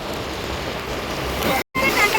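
Steady rain falls in a dense, even hiss, with a brief dropout near the end before it resumes, heard during a rainy outing past village homes.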